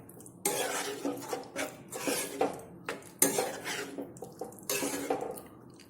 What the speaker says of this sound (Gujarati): હવે આપણે જે મકાઈના દાણાને બાફીને રાખ્યા છે તે આપણે અંદર લઈ લઈશું. બધું બરાબર મિક્સ કરી લઈશું.